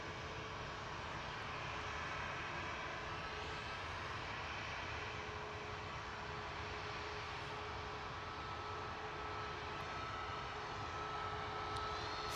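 TUI airliner approaching Manchester Airport in fog, a faint, distant, even jet engine drone holding steady throughout with a faint tonal whine and no speech.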